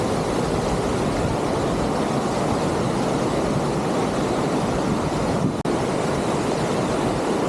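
A waterfall at Attappadi roars as a loud, steady broadband rush of falling water, continuous and close, with a brief dip near the end.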